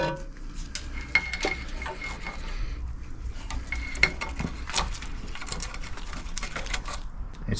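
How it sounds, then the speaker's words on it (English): Clanking and rubbing metal sounds from removing four fixings on the corroded rear axle of a Fiat Panda, with scattered sharp knocks and scraping over a steady low workshop hum, close by and with no speech. "now all we have to do is remove these four fixings"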